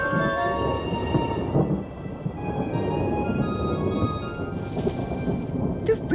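A rainy-season thunderstorm in a cartoon setting: steady heavy rain hisses throughout while low thunder rumbles roll beneath it, with a brief brighter crackle near the end; no voices.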